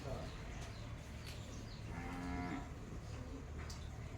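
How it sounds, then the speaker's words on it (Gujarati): A cow lets out a single drawn-out moo at moderate distance, rising mid-clip over faint outdoor background noise. "ગાય બોલે ને અમારે એટલે પાણી પીવું છે."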